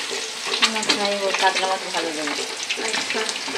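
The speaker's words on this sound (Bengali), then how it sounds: "এই যে পমফ্রেট মাছটা হচ্ছে, বলে ফ্রাই করবে" Pomfret fish frying in hot oil in a home kitchen, a close, busy crackling sizzle with scraping stirs, continuous throughout.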